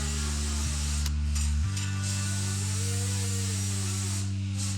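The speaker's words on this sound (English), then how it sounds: "Right here we're switching to our sander in order to sand off any rough edges on our pipe." A power sander fitted with 80-grit sandpaper grinds rough edges off an exhaust pipe for a Helmholtz resonator, giving a steady loud motorized hum and buzz that shifts pitch partway through.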